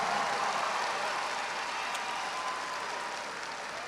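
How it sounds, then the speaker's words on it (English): Applause from the crowd at a university commencement ceremony, a wide, continuous wash of clapping that starts full and eases off slightly, with no voices heard over it. "Let's give the parents and the family and the friends a round of applause"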